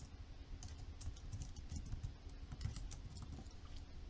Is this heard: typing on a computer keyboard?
yes